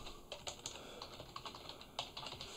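Quiet, close typing on a computer keyboard, a quick irregular patter of key clicks with brief pauses and no voices.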